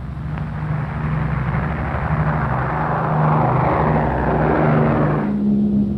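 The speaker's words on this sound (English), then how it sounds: "the plane took off for Japan." A four-engine B-29 bomber takes off in the early morning, its heavy propeller engines droning loudly and steadily, rising slightly in strength over a few seconds with no voices.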